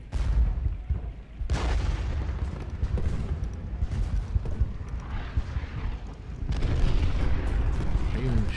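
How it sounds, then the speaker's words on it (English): Rolling musket and cannon fire from two Civil War divisions on the Gettysburg battlefield in a strategy game, a dense continuous rumble of shots and booms at moderate distance, swelling louder toward the end, with a voice speaking over it. "Two divisions firing at Davis."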